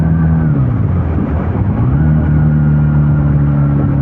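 A Benelli Patagonian Eagle 250 motorcycle engine runs loud and steady close by, its pitch dipping briefly as it shifts, then climbing and holding at high revs during a top-speed run.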